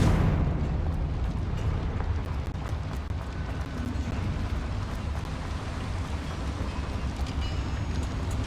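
The Confringo fire spell from Hogwarts Legacy erupts into a loud, roaring blast that settles into a sustained crackling, rumbling wash of fire and debris, dense and close, with no speech.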